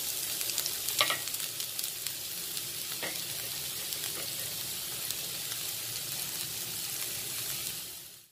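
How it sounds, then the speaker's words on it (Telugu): Onions and green chillies fry in cooking oil, giving a steady close sizzle with a few soft clinks of stirring for about eight seconds, with no talking. "ఇందులో డైరెక్ట్గా ఆనియన్స్ అండ్ పచ్చిమిర్చి వేసేస్తున్నాను."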